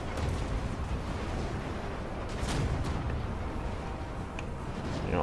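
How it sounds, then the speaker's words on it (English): Cannon fire rumbles through a battle in Total War: Warhammer during the siege of Altdorf, heavy low booms rolling continuously under dense battlefield noise, with a few sharper reports standing out. "these cannons are still opening up"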